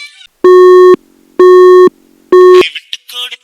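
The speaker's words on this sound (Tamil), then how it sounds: "நான் ஃபோன் அடிக்கும்போது பிஸின்னு வந்து" A telephone busy signal sounds loud and close: three steady, evenly spaced electronic tones with short gaps between them, followed by brief muffled voices as it cuts off.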